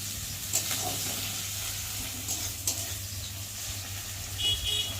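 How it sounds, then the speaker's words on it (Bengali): Garlic and onion fry in oil with a steady, soft sizzle and occasional stirring clicks, while a low hum runs underneath and faint distant traffic with brief horn toots drifts in. "তার জন্য আগে তেলের উপরে ভালো করে রসুনটাকে ভেজে নিতে হয়"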